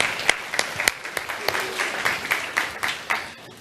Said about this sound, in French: on peut l'applaudir quand même, hein.